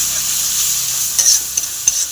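Ground spices with chili powder and cumin frying with already-browned onions in a pan for a Bengali fish curry with cauliflower and potato, a steady close high sizzle with a few sharper stirring scrapes near the end.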